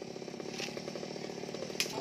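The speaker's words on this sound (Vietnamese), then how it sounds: "leo lên cắt cái nhánh ở bên đây nè các bạn" A chainsaw drones loudly and steadily nearby, cutting star apple tree branches from up in the tree, with a brief sharp crack partway through.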